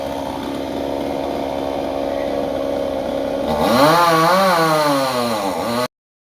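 A chainsaw cuts into a very tall tree standing above a tea shop and power lines, its engine droning loud and steady, then rising and wavering in pitch as the blade bites in before stopping abruptly.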